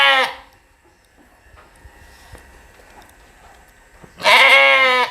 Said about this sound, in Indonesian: Biri-biri itu domba.